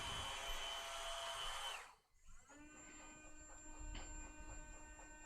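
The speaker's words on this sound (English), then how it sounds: "it's actually oscillating the blade, bringing it down, and it'll read the tip of that blade once it goes down" A Zund cutting machine whines and hums: a high tonal drone stops abruptly, then a lower, steady oscillating blade tone starts up, close but quiet, with no talking.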